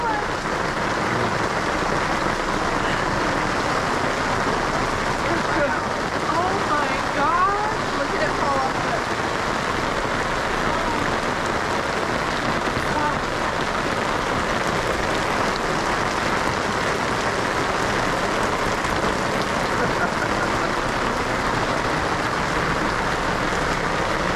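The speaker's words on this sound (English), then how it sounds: "That's quite the little storm." Steady, dense rain pours down throughout, a constant broadband hiss of a downpour on hard surfaces such as a pickleball court at an RV park in Bend, Oregon, with faint voices now and then beneath it.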